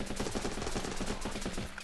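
Rapid automatic gunfire from the video game Running With Rifles rattles in steady, tightly spaced bursts for the whole stretch, moderately quiet and with no talking over it.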